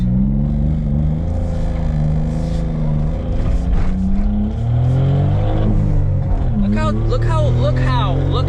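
Suzuki Cappuccino engine pulling hard during a first-person drive, with a slightly high idle: loud, continuous revving that climbs and resets through gear changes, with some speech over it.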